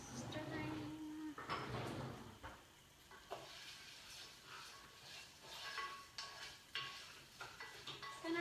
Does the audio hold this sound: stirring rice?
yes